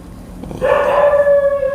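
A dog lets out a short, close howl that rises and holds a steady wavering tone after a brief low lead-in, loud and alone.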